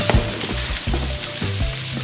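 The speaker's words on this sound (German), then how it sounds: "die Hackbällchen brutzeln schon richtig gut" Meatballs sizzling on a baking tray, a loud, steady crackling fry with sputtering pops throughout, close up and with no voices.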